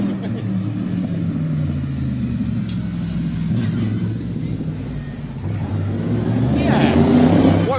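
A Daytona Coupe race car rumbles past at the Targa Tasmania event in George Town, a deep thunderous engine roar building in loudness toward the end, with people talking over it.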